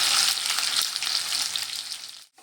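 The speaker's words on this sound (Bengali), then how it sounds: "খুব ভালো করে নেড়ে চেড়ে কচুগুলো একটু ভাজা ভাজা করে নেব।" Taro pieces stirred and fried in a pan produce a loud, close, dense sizzle with scraping stir strokes, fading out abruptly at the end.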